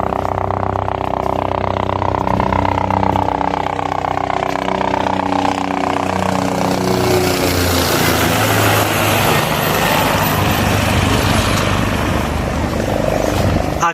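Helicopter flying over Kedarnath in worsening mountain weather, a loud continuous rotor and engine drone that holds steady and close for the whole stretch, with no talk over it.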